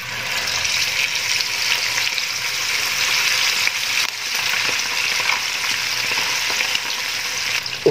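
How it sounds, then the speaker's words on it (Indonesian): Marinated chicken fries in hot oil with a loud, continuous hiss and bubbling crackle, occasional stirring clatter underneath, and no voices. "Sekarang langsung saja digoreng."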